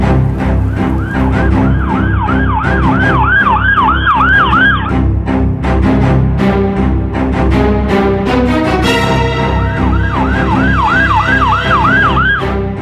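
Wailing ambulance siren cycles loudly and repeatedly, rising and falling in regular sweeps over busy street traffic noise, with a second siren pattern joining later.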